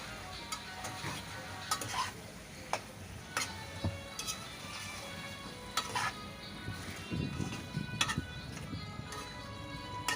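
Hilsa fish and pumpkin fry in a pan as they are sautéed and stirred, with steady soft sizzling broken by clear spatula taps and scrapes against the pan at irregular intervals.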